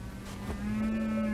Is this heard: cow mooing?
yes